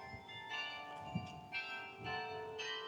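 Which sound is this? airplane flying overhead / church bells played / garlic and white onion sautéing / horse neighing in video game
church bells played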